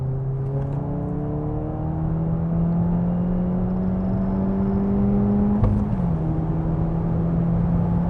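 A Seat Leon FR with a Stage 3 hybrid turbo engine and about 220 HP drones steadily with a rising engine tone, heard from inside the car, with a brief shift in pitch near the end.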